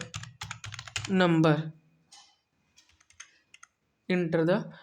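A quick run of computer keyboard clicks from typing Java code, followed by a voice talking, with a few scattered keystrokes in a quiet gap before the speech resumes.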